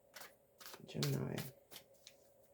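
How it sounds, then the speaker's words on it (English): Tarot cards being shuffled during a reading, a few quiet papery riffles and taps close up, softly under a voice talking. "Feel free to send me your energy while I'm shuffling the cards."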